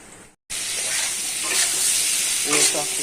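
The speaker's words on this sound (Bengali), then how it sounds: "সবজি ভাজছি কুমড়ো বেগুন" Pumpkin and eggplant frying in a pan, a brief cut to silence and then a loud, steady close sizzle with light stirring clinks.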